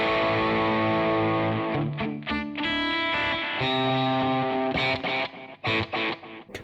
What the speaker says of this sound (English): I'll boost the actual echo level up.